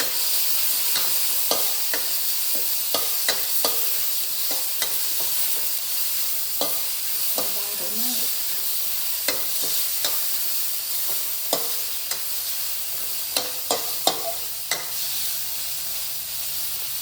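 Hot oil sizzling in a pan during a quick stir-fry with chilies and garlic, a steady hiss with repeated scraping stir strokes and clinks over about seventeen seconds, close and fairly loud, with no talking.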